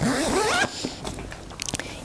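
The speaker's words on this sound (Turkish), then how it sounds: "Tentemiz fermuarlı bir tente sistemidir şu şekilde." A zipper on the canopy of a Chicco Glee stroller is pulled in a few quick rasping strokes, close and clear, following a short stretch of speech.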